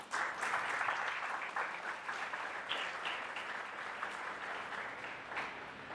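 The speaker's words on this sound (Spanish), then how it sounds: "Un aplauso para nuestros médicos." Steady, fairly soft applause fills a church service honoring doctors, many hands clapping continuously with slight swells and no one speaking over it.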